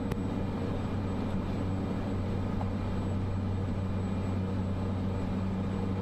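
A Cessna light aircraft on landing approach in Flight Simulator 2024 gives a steady, even engine drone that holds at constant loudness throughout, with no voices.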